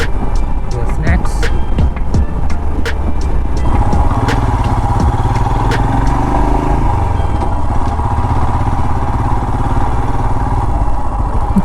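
A Royal Enfield Himalayan motorcycle riding along a road on the way to Chandrampalli Dam, a loud close engine drone with wind buffeting and sharp clattering knocks throughout, no talking.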